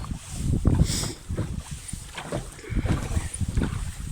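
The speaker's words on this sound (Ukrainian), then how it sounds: "Трішки хвиля на воді є, трішки вітер" Gentle lapping of small waves against a boat, with low wind buffeting the microphone throughout.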